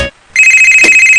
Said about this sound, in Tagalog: Ay, nga akong cellphone.